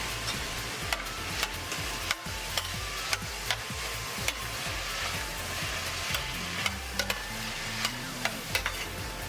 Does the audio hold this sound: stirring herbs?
yes